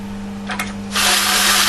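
Power tool winding bolts into an Austin A35 engine: a brief whir followed by a loud, steady high whine as the driver spins up, close by with no talking.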